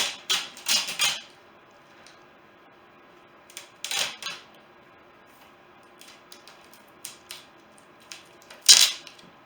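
Scissors snip pieces of tape while a project is taped and prepped for an epoxy resin pour. Sharp, crisp cutting bursts come in a quick cluster at the start, then single snips follow with quiet handling noises in between.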